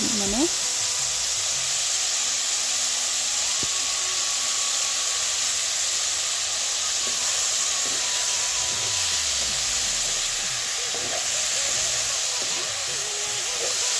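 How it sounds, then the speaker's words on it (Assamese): Potatoes fry in hot oil with onion and green chilli, giving a loud, steady sizzle that runs unbroken from start to finish, with faint stirring beneath it. "এইফালে আলু ভাজি আছোঁ।"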